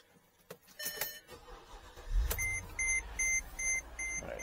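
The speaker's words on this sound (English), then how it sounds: "So we're going to start the car." A Mercedes ML500 with electrical problems starts up: clicks and a short cranking burst, then the engine settles into an idle while a chime beeps repeatedly at a steady rhythm.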